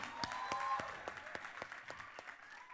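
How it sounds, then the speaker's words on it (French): Audience applause for a baseball club's head instructor at an Amos community show in Bas-Saint-Laurent, a steady moderate patter of many hands with sharper individual claps standing out, no talking over it. "Applaudissez-le tout le monde!"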